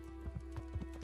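Horse hooves clip-clop in the medieval game Kingdom Come Deliverance, several quick soft steps at an even pace over a low steady hum, with no talk.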